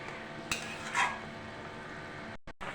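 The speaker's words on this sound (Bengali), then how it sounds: "একটু নাড়াচাড়া দিয়ে দিচ্ছি।" Rohu fish curry being stirred in a pot, a soft continuous bubbling simmer with a couple of light utensil clinks against the pot, close and quiet, no voices.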